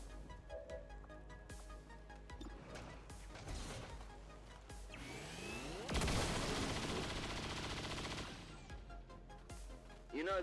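Rapid gunfire in XCOM 2 Long War of the Chosen fires as a quiet burst of shots, followed by a loud crashing impact that swells and rumbles before fading, with music underneath and no talking.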